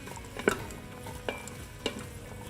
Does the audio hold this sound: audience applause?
no